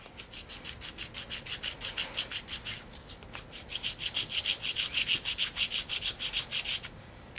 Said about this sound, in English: If you have these smooth, shiny, really plasticky buttons, you just take it, take your chick sandpaper,